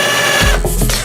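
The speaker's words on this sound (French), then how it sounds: "On reprend notre perceuse." Electric drill boring holes in a skateboard deck to fit handles for a wall shelf, a short loud motor whine that starts up and runs steadily for about a second, close and alone.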